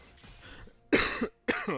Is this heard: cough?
yes